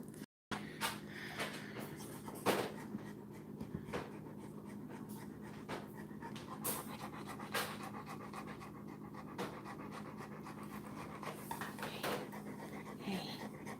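A Cane Corso dog in labor pants rapidly and steadily at close range, quick rhythmic breaths continuing throughout with occasional soft rustles and small knocks.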